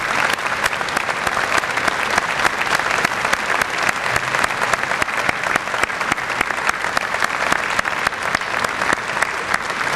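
Graduates at a University of Waterloo convocation applaud together, a loud, continuous roar of dense clapping filling the whole stretch without letup.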